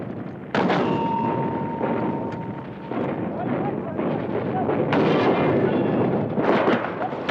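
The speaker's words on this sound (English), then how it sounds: "Heavy mortars firing from 8 miles away blasted the interior of the strongholds" Heavy mortar artillery fire from the 1973 Egyptian offensive in Sinai pounds in a sustained, rumbling barrage with sharp blasts at intervals, loud and continuous, with a narrator speaking over it.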